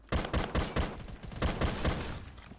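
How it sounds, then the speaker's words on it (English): TCR gun in a shooting video game fires a rapid burst of loud, close shots, bullets landing in quick back-to-back pairs in a steady rhythm over a couple of seconds. "I'm getting completely thrown off by the fact that it fires two bullets at once. Not at once, but it does it back to back so fast."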